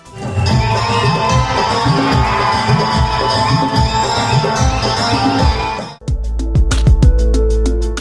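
Solapur Zilla Parishad staff cheer and shout at a cultural program in the Hutatma Smruti Mandir hall, a dense, loud crowd roar lasting about six seconds before it cuts abruptly to a different sound.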